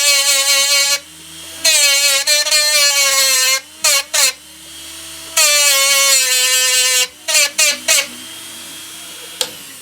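A high-pitched rotary power carving tool shapes a small wooden egg charm for a springtime bracelet. It whines loudly in long bursts, with a few short stop-start pulses between runs.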